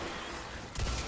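A hand cannon fires in Destiny, one loud, punchy shot that lands near the end after a stretch of steady game noise, with a low boom trailing it.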